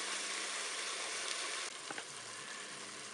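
Chicken and asparagus brown in a Cookeo multicooker with a soft, steady sizzle that shifts slightly partway through, as if stirred, continuing quietly without voices.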